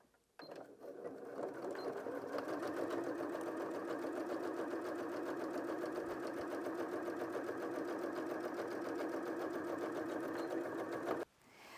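A Janome M100QDC sewing machine stitches fabric in one steady, continuous run of rapid mechanical whirring and needle chatter for about eleven seconds, close and fairly loud, with no talking.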